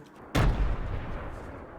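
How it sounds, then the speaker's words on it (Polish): A single loud explosion bursts in the Fortnite video game, a sharp blast followed by a long rumbling decay that fades over more than a second. "Jakie są wybuchy w tym budynku"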